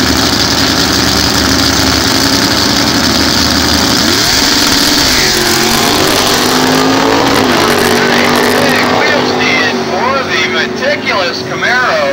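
A drag racing car accelerates down a quarter-mile strip, a loud engine roar rising in pitch through the gears with a shift partway, crowd or announcer chatter underneath and the sound thinning out toward the end.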